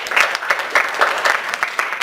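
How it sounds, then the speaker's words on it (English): A small group at a wellness session claps for a participant, a brisk, somewhat uneven patter of hands at close range that continues without a break and carries no speech over it. "Please clap for him."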